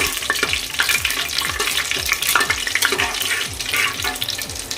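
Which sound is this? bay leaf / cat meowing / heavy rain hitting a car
bay leaf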